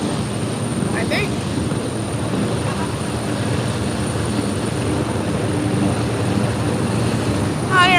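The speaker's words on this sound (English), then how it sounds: "the chopper gonna take off any second now" A helicopter near the East River in New York throbs with a loud, steady rotor and engine drone during takeoff, and a voice speaks briefly over it.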